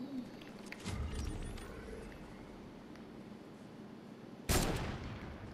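A single gunshot in the video game Fortnite, a sharp loud crack near the end over a steady low background, preceded by a softer thump.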